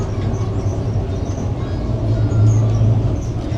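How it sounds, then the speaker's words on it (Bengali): The steady low rumble and rolling hum inside a moving second-class train in Italy, loud and close, with no talking. "এটা একটা সেকেন্ড ক্লাস ট্রেন"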